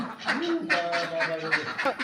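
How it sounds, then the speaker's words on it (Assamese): Several ducks quack in quick, overlapping calls close by, with a voice speaking alongside them. "হাঁহখিনি গৈছে দেই সোমাবলৈ।"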